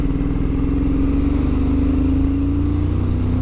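A 2021 Triumph Speed Twin motorcycle pulls hard in fourth gear from low revs, its parallel-twin engine giving a steady, loud, throbbing drone with a gradual slight rise in pitch as it accelerates.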